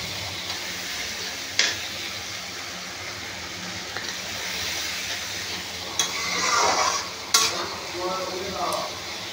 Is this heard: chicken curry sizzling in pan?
yes